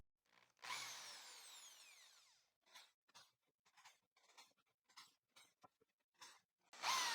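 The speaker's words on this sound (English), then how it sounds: "I'll make a small countersink using this 5mm drill bit to remove the darkened part left by the nail." A 5mm drill bit countersinks nail marks in wood, opening with a sharp whining spin-up that rings for about two seconds, then a series of short, quieter bursts of drilling, ending with another loud whir.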